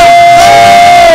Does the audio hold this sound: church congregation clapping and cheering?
yes